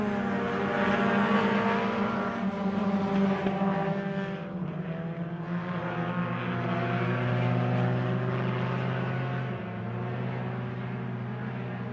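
Four-cylinder race cars lap Lake of the Woods Speedway, a steady loud engine drone with sustained harmonic whine and shifting pitch as cars pass, continuous throughout with no talk.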